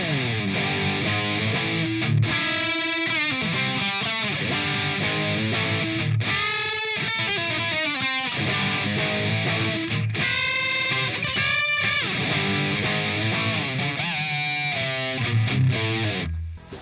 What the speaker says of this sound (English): Distortion pedal, there's just no way.